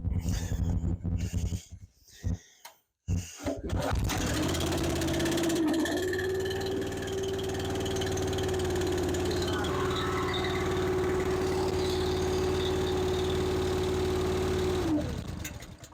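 A machine engine coughs with a few rough bursts, then catches and settles into a steady, loud idle with a constant hum for about ten seconds before cutting off.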